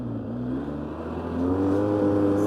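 A Polaris 600 quad ATV engine is held at full throttle, a loud, close, steady drone with a buzzing whine that climbs slightly in pitch partway through.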